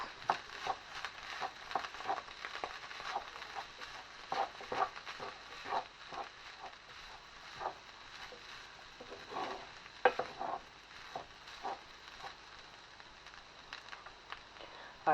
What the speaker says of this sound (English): we're going to stir this round for about 1 minute